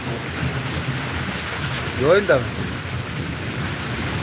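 Heavy rain pours steadily in Anand with a close crack of thunder rising midway, and a voice speaks briefly through the downpour.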